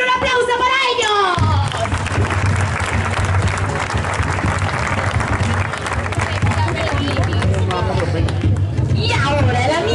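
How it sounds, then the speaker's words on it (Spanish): Audience applause and crowd murmur at a medieval fair for jugglers, a dense wash of clapping filling most of the stretch, with an announcer's voice at the start and end. "¡Un aplauso para ellos!"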